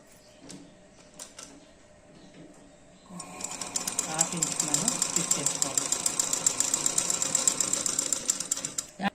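A sewing machine stitching a kurta shoulder seam at a half-inch allowance runs in a fast, loud, continuous mechanical rattle after a few seconds of quieter handling sounds and a voice.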